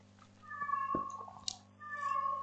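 A cat outside a house gives drawn-out meows, one long call and then another after a short pause, faint and somewhat distant, with a low steady hum underneath and no talk.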